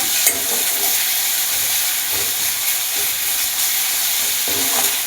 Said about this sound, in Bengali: আদা রসুন বাটা জিরে আটা একটু ভেজে নেবো যাতে গন্ধটা চলে যায় কাঁচা গন্ধটা